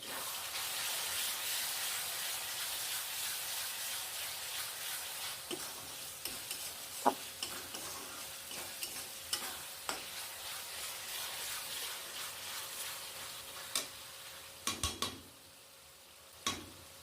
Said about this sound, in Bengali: স্বাদ মতো নুন, লঙ্কার গুঁড়ো দিয়ে ভালো করে নাড়িয়ে নেব।